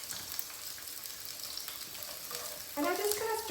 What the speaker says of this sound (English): when you drop in the onions, as you see that it's sizzling